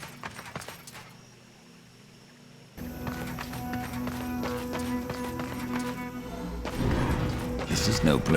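A horse gallops in Darksiders 2 with dense, rapid hoofbeats, loud and close over game music and ambience, after a brief quieter stretch at the start.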